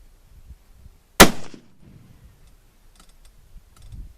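A single sharp rifle shot from a .270 Browning X-Bolt Medallion firing Remington ammunition cracks out loudly and decays quickly, followed by faint ambient outdoor noise and a few soft clicks.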